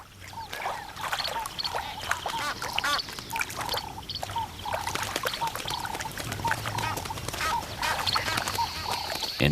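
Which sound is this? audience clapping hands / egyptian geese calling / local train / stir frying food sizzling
egyptian geese calling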